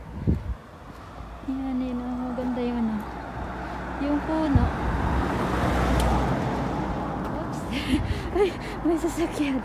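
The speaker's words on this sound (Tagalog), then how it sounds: "May sasakyan." A car passes along an autumn street near a bus stop, a steady roadway rumble swelling in the middle and fading, with background traffic and a person's heavy breathing and voice nearby.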